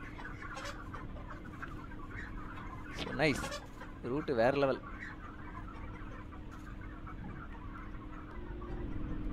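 Chickens clucking inside a train simulator game set on an Indian MEMU route, two short bursts of hen clucks and calls over a steady engine hum, with someone talking over the scene.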